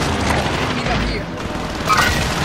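Gunfire from Call of Duty: Modern Warfare fills a busy in-game firefight, with dense overlapping bursts and rattling automatic fire over a constant roar. Voices speak over the shooting.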